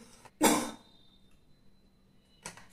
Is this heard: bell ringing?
no